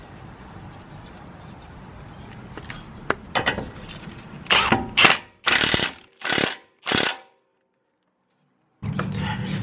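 Ratchet wrench clicking in a few short bursts as a new tie rod end nut is torqued down. A quieter stretch of ratcheting builds into about five loud, close pulls, then comes a pause before low workshop noise returns.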